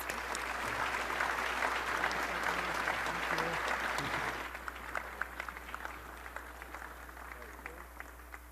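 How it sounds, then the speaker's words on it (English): An audience at an Economic Club of Canada event in Ottawa applauds steadily, loud at first and then thinning out into scattered claps. "Please give him a warm round of applause."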